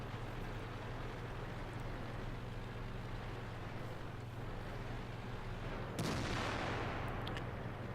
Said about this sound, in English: I don't know where that shot went